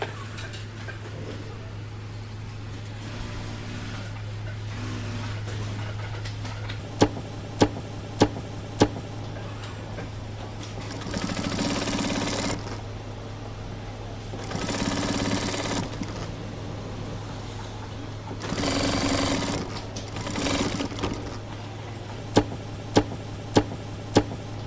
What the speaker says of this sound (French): Là où est fait la piqûre, ouais, c'est vraiment très près du bord.